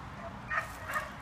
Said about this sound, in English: He is a very solid little tank of a dog.